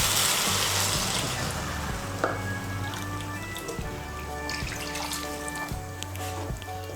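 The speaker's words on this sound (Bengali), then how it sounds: "আমি এর মধ্যে 1 কাপ আর হাফ কাপ জল দিচ্ছি।" Water poured into a pan of potol bora curry, a continuous splashing, trickling stream up close, steady throughout and strongest at the start.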